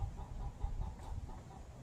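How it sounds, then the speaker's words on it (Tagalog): Soft, rhythmic clucking from a chicken a short distance away, quiet and repeated over a low background rumble. "Malaki na ang boses ng manok namin pandang."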